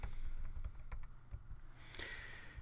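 Steady clicking of a computer keyboard as a search term is typed into Bible study software, quick irregular keystrokes close by with no talking.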